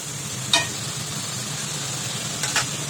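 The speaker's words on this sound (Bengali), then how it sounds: "এবার জলটা দিয়ে ভালো করে কষতে থাকবো" A hilsa fish head and vegetable curry sizzles steadily in a wok, with two brief scraping clinks of a spatula stirring the pan and no voices.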